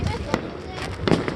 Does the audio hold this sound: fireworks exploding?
yes